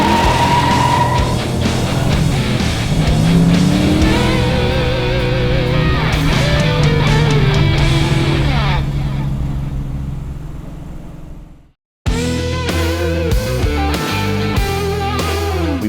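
A restored 1993 Ford Mustang Cobra Fox body on the road: loud, continuous engine roar with rising and falling revs as it drives, fading out briefly, then returning with sharp gear-change bursts.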